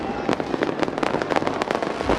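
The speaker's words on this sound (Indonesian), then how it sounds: "sudah melayangkan dan juga meluncurkan pesta kembang api" Fireworks bursting in a New Year's Eve celebration in Indonesia, with rapid overlapping bangs and crackles that fill the air at close range, loud and dense throughout.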